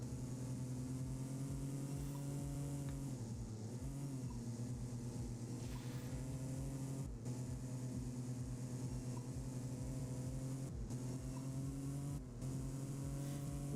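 A Nissan Frontier truck engine in the Roblox video game revs as a continuous, loud motor hum, dipping briefly at a few gear shifts before climbing back.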